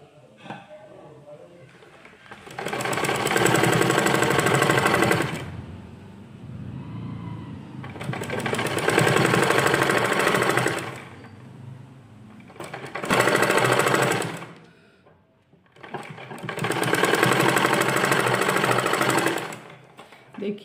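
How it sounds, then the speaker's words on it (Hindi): An electric sewing machine stitching a fabric strip onto a sleeve runs in four long, loud bursts of rapid mechanical chatter, with quieter handling pauses between, while a voice talks in the background. "हम ऐसे एक पट्टी लेंगे और जहाँ से हमने सिलाई स्टार्ट की थी यहाँ पे इसके सामने एक पट्टी से ऐसे इसकी सिलाई लगा देंगे"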